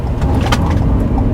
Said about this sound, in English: had a little bit of wheel slip there as I accelerated quickly to pull out there